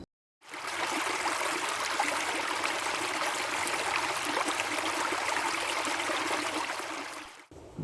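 Water pours steadily for several seconds into a burlap garden planter filled with wood chips, mulch and coconut coir, a close, continuous splashing rush that starts abruptly and tapers off at the end.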